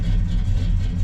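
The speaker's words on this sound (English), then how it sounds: "she starts right up" A 1987 El Camino engine runs just after starting, a dense low rumble close by with an uneven, churning texture and no voices.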